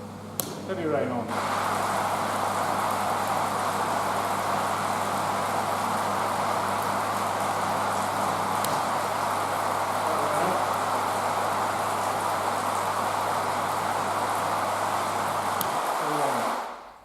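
Heavy rain from a film rain-effects rig pouring onto a hard plastic surface, a loud dense continuous hiss over a low pump hum, switching on suddenly and stopping just before the end.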